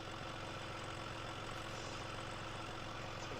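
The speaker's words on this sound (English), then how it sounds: "I think I'm going to take the big Ford truck. It's more like a monster truck, really." A big Ford truck in the Spin Tires driving game idles with a steady low engine rumble and faint knocking pulses, continuous and fairly quiet throughout with no voices.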